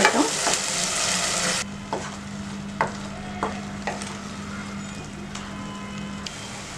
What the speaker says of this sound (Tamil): இது கொஞ்ச நேரம் எண்ணெயில் வதங்கட்டும்.